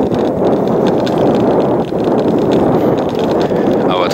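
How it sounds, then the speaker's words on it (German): Steady wind rushing across the microphone, loud and continuous, with faint rustling and scattered footsteps underneath throughout, on a cold walk near the Emmerstausee reservoir in Germany. "Man hört es auch am Wind, glaube ich."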